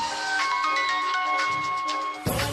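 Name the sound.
phone ringing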